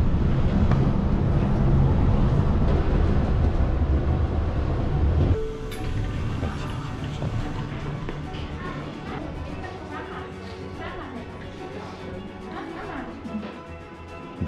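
Loud rumbling of a train on the line to Jungfraujoch in the Swiss Alps, steady and close, easing into a quieter, lighter rolling hum partway through.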